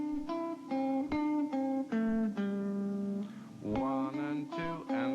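An acoustic guitar plays a single bar of fretted notes: about a dozen distinct plucked tones, each ringing briefly before the next. The notes are clear and close, with no voice over them.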